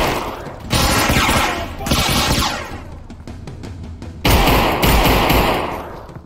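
Gunfire in the Gunman mod of the VR game Half-Life: Alyx: loud bursts of rapid shots crackle in several volleys, with a short lull between them, and no one talks over it.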